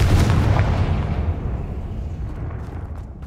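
A Confringo fire spell in Hogwarts Legacy lets off a loud booming blast at once, its rumbling roar fading gradually over three seconds.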